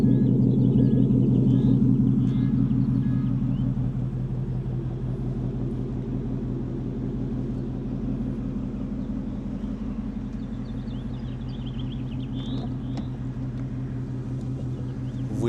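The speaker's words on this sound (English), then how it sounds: "so that's going to be a Borla exhaust." A 2024 Ford Mustang GT with an aftermarket Borla exhaust idles with a deep, steady low rumble that is loudest at first, then settles to a constant throaty drone heard up close with no talking.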